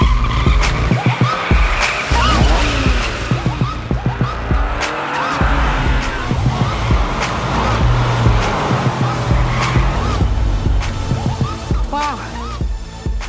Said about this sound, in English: Beckett, this is a Ferrari. It is a high-performance vehicle designed to respond instantaneously to your every whim